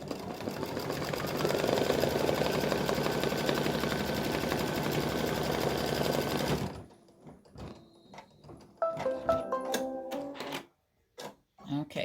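An embroidery machine stitches a tack-down line on appliqué fabric for a pumpkin design, a steady close mechanical whir that stops abruptly partway through, followed by quiet handling sounds and a voice.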